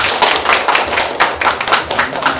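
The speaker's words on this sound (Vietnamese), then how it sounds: "Nay một chàng vỗ tay thật to để đón chào một vị đại diện của Hoàng Nhà Trai." Guests at an engagement ceremony in northern Vietnam clap loudly and close by, a brisk run of hand claps in quick uneven rhythm that fills the short stretch.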